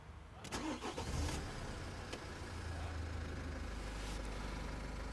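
A 2013 Nissan X-Trail 2.0 diesel with sluggish, poor performance cranks and catches, a brief starter whirr followed by a steady low engine idle, heard from inside at moderate distance.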